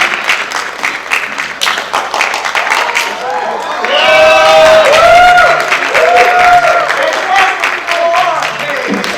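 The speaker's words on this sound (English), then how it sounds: "Let's give another round of applause for our panelists" An audience at a cosplay convention panel applauds the panelists with sustained clapping from many hands. Cheers and voices rise in the middle, and the applause stays steady and fairly loud throughout.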